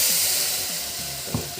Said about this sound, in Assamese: এতিয়া ইয়াত এইটো মছলা পানী অকণমান দি দিওঁ